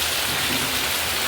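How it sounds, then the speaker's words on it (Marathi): Heavy rain pours steadily outside a village house, a dense continuous hiss close by with a low rumble beneath, with no voices. "बाहेर पाऊस बघा"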